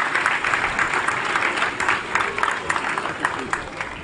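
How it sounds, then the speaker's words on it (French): Children applauding loudly for a man at a school event, a few seconds of brisk crowd clapping with voices mixed in. "je voudrais que vous applaudissiez très fort"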